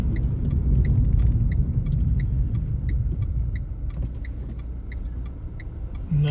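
A car on a driving-test route slows and turns right, with a low interior engine and road rumble, faint ticking clicks throughout, and a louder bump at the end.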